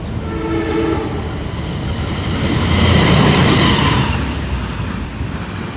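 Sawung Galih passenger train rushing past alongside a moving carriage, a loud continuous roar swelling and fading with a sustained horn tone over it.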